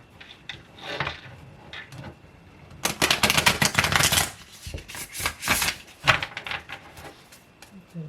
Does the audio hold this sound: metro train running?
no